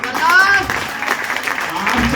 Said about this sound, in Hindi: इसके सम्मान में जबरदस्त ताली चाहूंगा